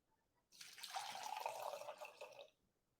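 Pickling liquid for jicama is poured into a bowl, a close two-second stream of splashing and trickling that starts and stops abruptly against a quiet room.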